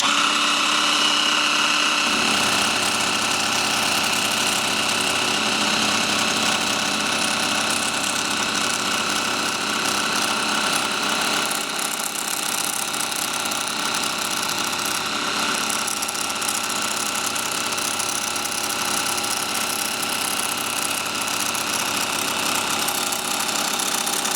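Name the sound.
Dremel MS20 Moto Saw running at speed 1, cutting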